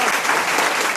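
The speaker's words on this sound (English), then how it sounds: "can we have a round of applause?" An audience gives a brief round of applause at a rural talk, dense steady clapping filling the whole second, close and fairly loud with no voices.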